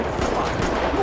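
A burst of rapid gunfire in a shooting video game, a dense, continuous rattle of shots lasting about a second.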